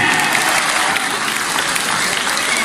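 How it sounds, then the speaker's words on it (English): An audience breaks into a dense, steady round of applause for Dr. Lam, many hands clapping at once without a break and no voices over it. "A big round of applause for him."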